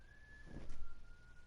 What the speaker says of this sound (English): he's whistling again